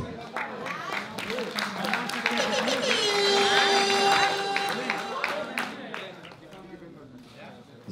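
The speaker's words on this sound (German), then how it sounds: "Leute, dicken Applaus jetzt!" A crowd at a breakdance crew battle at a hip hop camp claps and cheers, swelling to a loud peak mid-clip with music and chatter mixed in before easing off.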